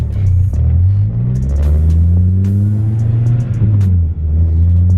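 A Toyota Celica fitted with a short throw shifter drives along, its engine a steady, close, droning hum whose pitch climbs and dips as the revs rise and fall between gear changes.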